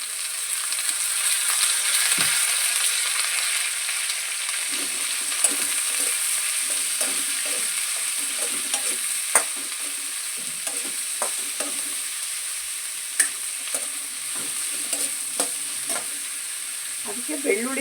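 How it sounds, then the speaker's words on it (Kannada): Oil sizzles in a pan with a continuous bright hiss, broken by scattered pops and soft scrapes of stirring as it heats, steady and fairly loud without any speech. "ಅದು ಸ್ವಲ್ಪ ಆಯಿಲ್ ಹಾಕ್ಕೊಳ್ತಾ ಇದ್ದೀನಿ"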